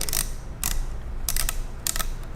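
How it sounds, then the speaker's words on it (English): Four short bursts of metallic grinding and ratcheting as a castle nut's welded bead grinds on air rifle barrel threads, evenly spaced, close and crisp against a quiet background. "That grinding sound you hear is the bead that's welded to the back of the castle nut."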